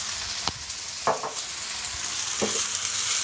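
Char siu lo mein sizzles in a hot wok with bean sprouts and mushrooms, a loud continuous frying hiss broken by a few sharp scraping clacks as the ingredients are tossed.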